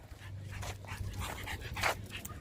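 A Toy Pomeranian dog pants and gives soft whimpering breaths up close, brief airy puffs over a low indoor hum, with no voices.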